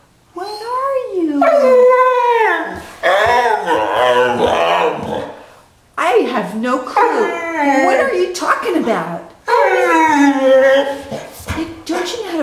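A dog howls and whines in long, wavering, almost voice-like cries, three drawn-out bouts separated by brief pauses.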